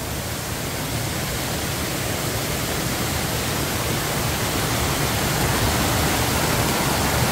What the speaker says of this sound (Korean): 그 아래로 폭포가 떨어져요.